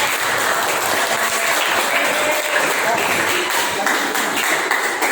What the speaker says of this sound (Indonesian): Tepuk tangan buat Jaza.